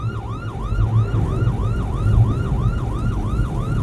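Close and loud, an ambulance siren cycles through rapid rising and falling wails in busy traffic, with a constant low engine and road drone beneath it.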